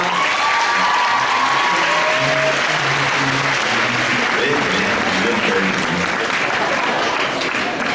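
A crowd applauds at a cosplay contest at Manga Dax: loud, sustained clapping fills the whole stretch, with a few voices and cheers mixed into it.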